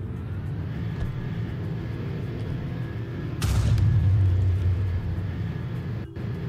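A steady low rumble of engines and wind runs throughout the video game Airport Tycoon, swelling into a louder roaring whoosh midway as a plane passes close, then easing back.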